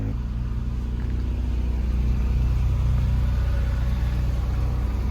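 Cabin of a car on the move, a Mitsubishi Lancer GSR, with a constant low engine drone and road rumble filling the whole stretch, steady and close, no voices over it.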